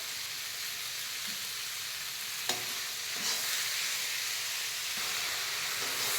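Onions and tomatoes with a little salt sauté in a pan for a cauliflower gravy, giving a steady, soft sizzling hiss with a brief stirring clatter partway through and no talking.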